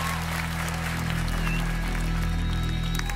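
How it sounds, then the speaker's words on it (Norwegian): Studio audience clapping steadily for Stian and Solveig at a Norwegian talent show, a dense, continuous wash of applause with no break. "Applaus for Stian og Solveig"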